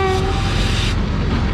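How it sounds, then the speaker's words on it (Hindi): A freight train at Mandodero railway station in Pakistan, a loud, steady rumble and roar of cars rolling past close by, with a brief tonal horn note near the start. "एक फ्रेट ट्रेन मिल गई है"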